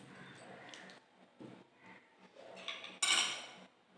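A metal spoon scrapes and clinks against a pot of thick tomato soup as sugar is stirred in, producing several close, quiet taps and then a brighter louder clatter near the end.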